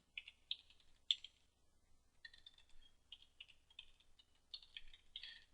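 Typing on a computer keyboard in a quiet room, short irregular bursts of soft key clicks with pauses between them.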